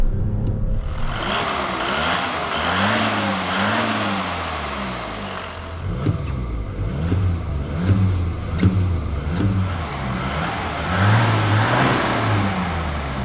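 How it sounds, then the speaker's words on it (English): Audi A6 V6 TDI diesel (323 hp) accelerating hard from a standstill toward 100 km/h, engine note rising and falling through several gear changes, loud and close throughout with no talk. "This is unusual throttle response for a diesel engine."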